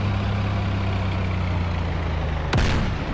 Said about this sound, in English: the fucking MLRS just landed on my face